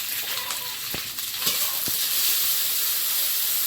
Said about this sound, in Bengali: আদা রসুন দিয়ে ভালো করে একটু ভেজে নিয়েছি